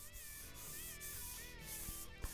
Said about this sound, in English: A lot of sanding.